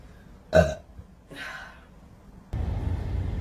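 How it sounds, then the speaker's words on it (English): A woman lets out a loud, close burp, followed by a softer second one, then a rustling noise. "I got a burp."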